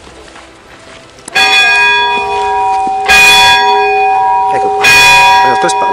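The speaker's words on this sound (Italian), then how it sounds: "il rumore che sentite sarebbe il campanile della chiesa" Church tower bells ring out across a piazza at the Fenestrelle fortress in Piedmont, loud rich peals striking in three strong swells after a quiet start, with someone speaking briefly beforehand.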